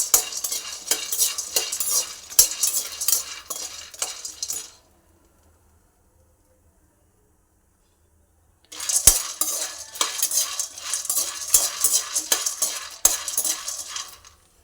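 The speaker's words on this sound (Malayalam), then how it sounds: "കപ്പലണ്ടി ഒന്ന് ചൂടാക്കിയിട്ട് കപ്പലണ്ടി തട്ടിയിട്ട് കൊടുക്കുക. നല്ലതുപോലെ ഇളക്കി കരിയാതെ നോക്കണം" Peanuts are stirred in a hot pan while roasting, giving a steady rattling scrape of nuts and spoon against metal that stops for a few seconds and then starts again, close and fairly loud.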